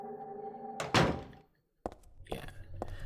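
The moon door in Silent Hill 3 grinds and thunks open with a heavy slam, followed by a silent gap and a few sharp knocking clunks, set against a low droning ambience.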